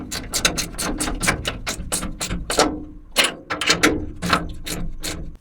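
Bolts are fitted and tightened during a storage-room repair in an old house, producing a rapid, close series of sharp metallic ratcheting clicks in quick bursts with short pauses, no talking.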